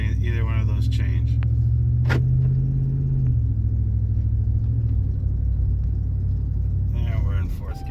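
An automatic transmission car drives with a steady low engine drone; partway through the pitch steps down as it shifts from first to second gear. A voice speaks briefly at the start and near the end.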